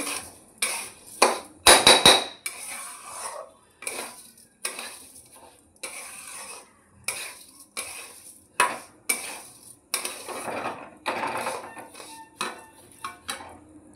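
Rice fried with turmeric for pulao, stirred with a metal spoon in a pan: repeated loud scraping clanks and knocks in an uneven rhythm over a faint sizzle.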